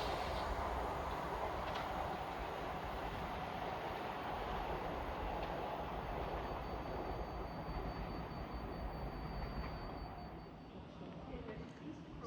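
Southern Class 377 units 377208 and 377406 run past at South Croydon on the Harbour to London Victoria service, a steady rail rumble fading slightly near the end, with a voice speaking over it.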